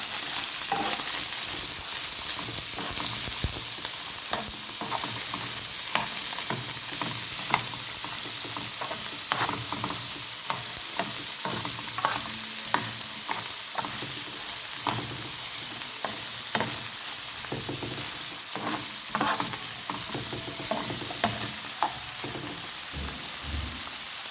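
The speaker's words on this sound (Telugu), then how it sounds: "వీటిని మనం ఫ్రై చేసుకుందాం." Ingredients for chicken and egg fried rice sizzle loudly in a pan, with a constant close crackle broken by frequent scraping and knocking as they are stirred.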